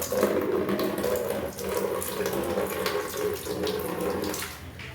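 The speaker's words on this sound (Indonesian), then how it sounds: "dengan cara begini air akan mengalir dari yang tinggi ke yang rendah tanpa terputus-putus" Water runs steadily through a siphon hose while draining a tank, flowing from high to low without interruption in a continuous, close, fairly loud gush with no other sounds.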